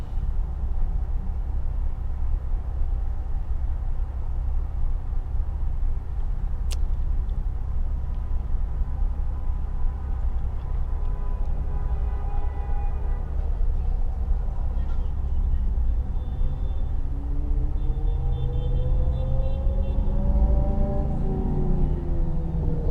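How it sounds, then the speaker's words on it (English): A 2006 Infiniti G35 coupe with a VQ35DE V6 and Z1 touring exhaust drones steadily from inside the cabin while driving, its note echoing as if in a tunnel, with talk over the engine. "the way the sound kind of bounces off everything always makes the car sound so much cooler"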